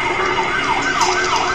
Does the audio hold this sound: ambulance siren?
yes